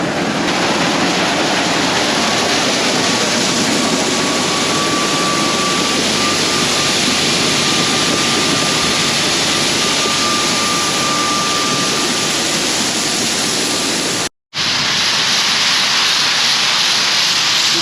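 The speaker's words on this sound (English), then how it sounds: "can hear the corn hitting the walls of the bin" Corn kernels pour into a grain bin and a spreader flings them against the metal walls during a muddy 2021 harvest, making a loud, steady hissing rush that runs without a break for the whole clip, apart from one brief dropout near the end.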